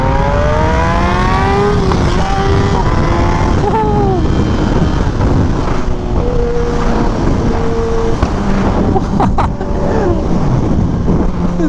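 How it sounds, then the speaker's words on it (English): A Kawasaki Ninja ZX10R sport motorcycle revs loudly and close by, its engine note rising and falling, with a few sharp exhaust pops and crackles near the end. "The pops and crackles on this bike."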